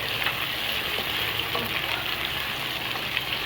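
Ginger-garlic paste sautés with light-brown onions in a pan for daal mash. A continuous, even sizzle is heard up close, with faint stirring clicks and no talk.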